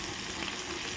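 Hilsa fish deep-frying in a pan of hot oil, a steady close crackling sizzle that holds evenly through the short moment without any voices.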